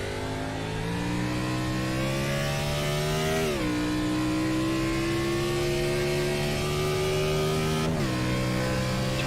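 A Chevy race car roars over the start-finish line at the Daytona Road Course in the iRacing sim, a loud sustained engine note with gear shifts that briefly drop the pitch, heard alone.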